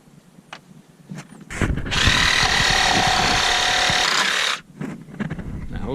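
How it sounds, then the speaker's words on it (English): A Sawzall reciprocating saw cuts through pallet wood in one loud, continuous buzzing burst of about three seconds, with rapid rasping strokes, set between quieter handling clatter before and after. "first Sawzall usage"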